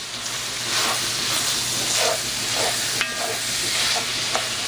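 Italian sausage chili sizzles and hisses steadily in a pan as it is stirred, with faint scrapes and soft clinks over the frying noise and no one talking.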